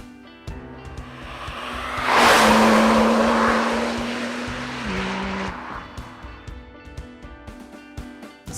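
A 2015 Porsche 911 Type 991 Turbo S sweeps past, its engine rising into a loud whooshing roar that peaks and then eases away, with a steady tone in the background.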